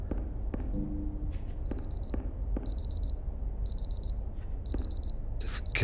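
Alarm clock ringing inside the video game Superliminal: repeated bright electronic beeps in short regular bursts, fairly loud over a low background rumble, with no speech.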